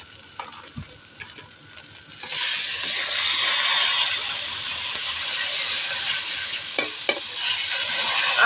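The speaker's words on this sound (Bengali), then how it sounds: "আর একটু অল্প জল দেওয়া হয়েছে এবং সাতলামি চলছে।" A spiced fish curry masala with turmeric, chili and cumin powders and a splash of water sautés in a pan: light clinks at first, then a loud, sustained sizzling hiss of frying that carries on steadily.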